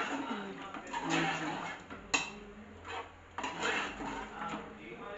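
Fish pieces are folded into masala in a pan for a homestyle fish iguru, with intermittent scraping and clinking of a utensil against the pan, close and moderate, and a voice talking throughout.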